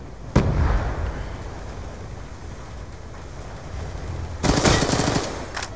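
Rapid automatic MSMC submachine gun fire in Call of Duty Black Ops 2 Hardpoint gameplay, a dense rattling burst at the start, then continuous in-game battle noise and another loud volley of shots near the end.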